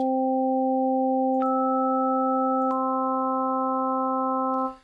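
Pure sine tones of the harmonic series stack up one at a time, starting from a low C fundamental, with higher partials joining in at intervals to form a steady sustained chord.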